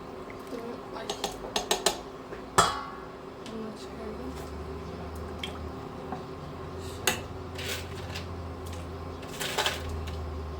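A spoon scrapes and clinks against a cooking pot as food is stirred at home, with irregular metallic knocks and wet squishing over a steady kitchen background hum.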